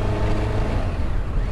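A BMW K1 motorcycle running on the road, with a steady low engine drone and wind rumble, close and continuous for a brief moment.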